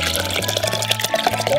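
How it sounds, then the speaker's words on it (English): A thick, clumpy homemade edible slime mixture made from water pours into a blender, a steady wet liquid flow with gloppy splashes, close and fairly loud, with no talking. "So we're gonna go ahead and pour it into the blender."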